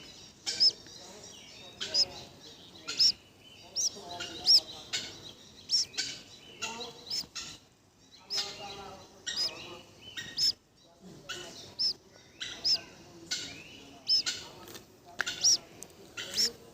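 Repeated high, thin peeps of a white-breasted waterhen chick at steady intervals, close by, over someone talking throughout.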